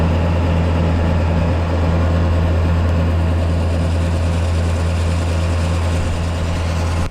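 A tractor engine, a 220 farm machine nearly out of fuel, runs steadily at a deep, loud idle through the whole stretch, with a constant low drone and no talk.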